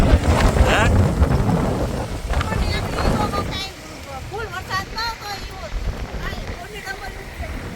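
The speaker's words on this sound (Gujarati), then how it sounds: "પવનની બહુ છે" Strong storm wind roars and buffets the microphone outdoors in a rainy farm field, with a person talking partway through.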